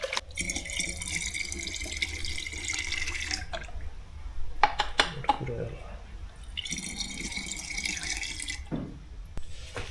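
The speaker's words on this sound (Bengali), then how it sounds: "সোলার ব্যাটারিগুলোতে পানি দেওয়া শেষ" Water is poured into a row of solar batteries in a steady hissing stream, stopping and starting again after a pause, with a few clicks and knocks between pours.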